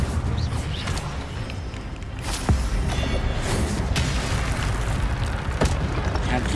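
Incendio fire spell cast in the Hogwarts Legacy video game, loud whooshing bursts and booming impacts over a rumbling battle background, with a voice briefly heard.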